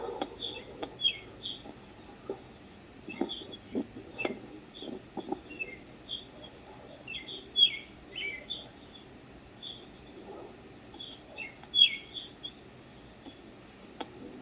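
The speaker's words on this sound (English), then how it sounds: "Somebody need to feed their birds." Pet birds chirp faintly in the background of a quiet meeting room, with sparse high tweets scattered throughout, soft clicks and small knocks around them.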